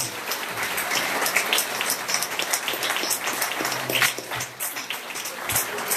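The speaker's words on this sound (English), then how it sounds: "I'd like for us all to give a big round of applause to these gentlemen who are candidates" An audience gives a sustained, even round of applause for the candidates at a 2018 Missouri congressional Democratic primary debate, with many hands clapping together into a broad, rain-like wash.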